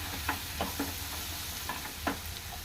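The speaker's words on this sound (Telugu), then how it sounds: "ఫైనల్గా దీన్ని బాగా వేయించుకొని" Spices frying with a cashew-coconut paste and chickpea curry base in a pan, a steady soft sizzle under several sharp spoon-scraping stirs spaced irregularly, close and fairly quiet.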